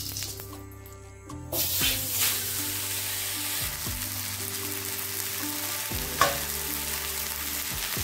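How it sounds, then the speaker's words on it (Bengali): Chicken for tandoori frying in ghee in a kadai over a gas flame: quiet at first, then a loud, steady sizzle bursts in after about a second and continues, with a few spatula knocks and no talking. "এবার দিয়ে দেবো চিকেনটা। তার আগে সামান্য একটু ঘি দিয়ে দিচ্ছি।"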